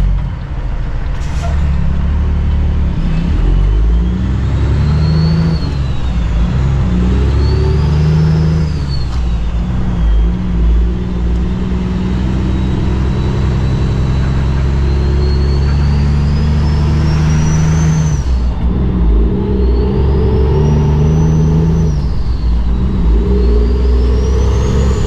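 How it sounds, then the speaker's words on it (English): Semi truck cruising on the highway, a steady loud diesel drone with road rumble and occasional rising and falling whine as the engine works, continuous throughout. "Good, solid highway driving."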